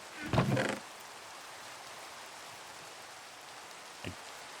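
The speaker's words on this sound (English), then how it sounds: "Ah, I'm out in the rain again." Rain falls in the video game Minecraft as a faint, steady hiss throughout. A short thump-like sound comes near the start and a small tap follows later.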